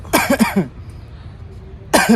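A woman gives a dry cough, a quick cluster of three or four harsh hacks close up, then a pause before she speaks briefly.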